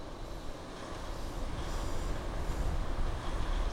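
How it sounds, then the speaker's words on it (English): A CSX train rumbles steadily past, a continuous broad roar of wheels and rail noise that holds level throughout, with no voices. "Train and truck meet."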